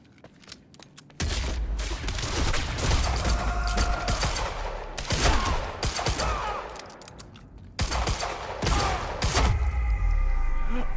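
Rapid gunfire from the video game Quantum Break comes in loud sustained bursts with short pauses between volleys, close and dense throughout.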